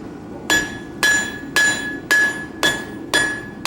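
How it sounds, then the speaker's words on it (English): A blacksmith's hand hammer strikes hot metal at a smithing conference, landing six sharp, ringing blows at a steady rhythm, about every half second, loud and close with a bright metallic tone. "I'm going to hammer on one side and then the other side to keep that centered."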